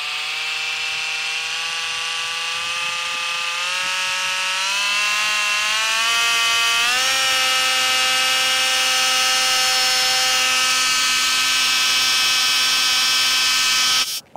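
A Dremel Velocity corded oscillating tool runs steadily on its own, a strong whining buzz rich in harmonics that climbs in pitch as the speed rises from 10,000 to 16,000 oscillations per minute, with a clear step up midway, then holds.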